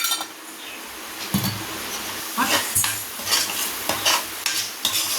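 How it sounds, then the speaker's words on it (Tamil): Homemade chili powder is sautéed in a pan for a Coimbatore-style rice and lentil dish. A spoon scrapes and clinks against the pan in repeated strokes over a soft, continuous sizzle. "ரெண்டு ஸ்பூன் மிளகாய்க்கு போட்டு நல்லா வதக்கிக்கிறோம்"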